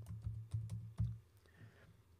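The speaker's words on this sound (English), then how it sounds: "in that box, you have to type the words charge.failed" Keys clatter on a computer keyboard as a search term is entered into a filter box, a quick burst of close, crisp clicks with a few louder strokes, then slowing to sparse light taps.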